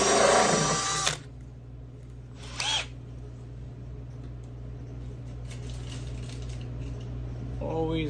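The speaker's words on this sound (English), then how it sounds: "And drill them out and get them all finished up." A power drill whines in two short bursts, loud and close, drilling out holes in a Camaro firewall, separated by quieter stretches of faint background noise and a brief voice at the end.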